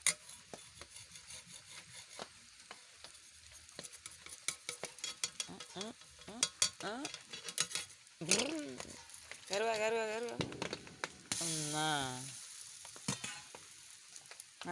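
Food frying in a pan is stirred with repeated scraping and rustling strokes under an ongoing sizzle, while a person talks loudly nearby through much of it.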